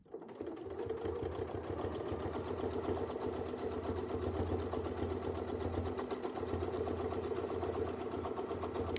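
A sewing machine stitches steadily across a quilt for a second pass, its rapid needle rhythm running loud and continuous from just after the start, with a low motor hum underneath and no talking.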